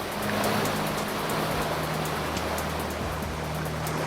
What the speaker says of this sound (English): handling the white water on some of the smaller channels